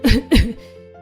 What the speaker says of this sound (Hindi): हमें ही इतनी खांसी हो रही है